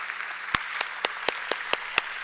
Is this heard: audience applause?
yes